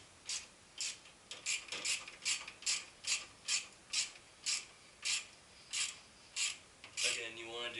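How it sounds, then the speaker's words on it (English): A flex ratchet wrench tightening alternator bolts on a Mazda Miata, a steady series of about a dozen crisp clicking ratchet strokes, evenly spaced and close, with no talk. "Nice little flex wrench again."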